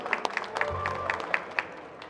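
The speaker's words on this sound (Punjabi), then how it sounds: "ਇੱਕ ਵਾਰੀ ਭਾਅ ਜੀ ਦੇ ਨਾਮ 'ਤੇ ਜ਼ੋਰਦਾਰ ਤਾਲੀਆਂ" Rhythmic, fairly brisk clapping from an audience at a Shri Balaji chowki devotional gathering in Jalalabad, Fazilka, heard at moderate volume as a run of sharp claps with a faint crowd murmur beneath.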